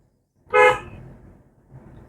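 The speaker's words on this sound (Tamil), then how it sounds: "ஹாரன்" One short, loud car horn honk stands out near the start, followed by quiet low road and engine rumble.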